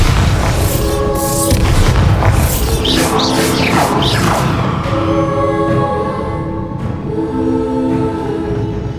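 Spell blasts from Hogwarts Legacy boom through a game scene while fighting spiders, with heavy rumbling impacts and whooshing bursts layered over a dense, continuous score and ambience.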